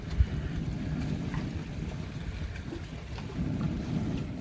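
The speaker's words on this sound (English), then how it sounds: "It's kind of windy out here." Wind blowing outdoors aboard a Mainship 400 boat, a steady low rumbling gust noise buffeting the microphone throughout, with no speech.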